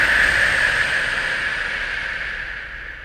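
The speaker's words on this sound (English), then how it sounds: "We inhale through the nose and we exhale through the mouth." A steady, airy exhale through the mouth with a soft hiss, loud and close, fading slightly over about three seconds with no talking.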